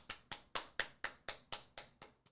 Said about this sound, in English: little golf clap.